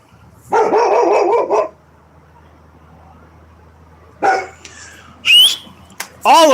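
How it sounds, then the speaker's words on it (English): Loud, close barking from Oliver, a dog out in the front yard on a cold late night, comes as a sustained burst followed by several sharp yelps, with a person shouting over it. "I'm louder than the fucking dog"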